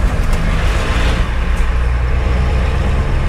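A 1983 Ford F-350 truck rolling slowly over bumps in low gear, its loud steady engine rumble and road noise continuous throughout, with no talking.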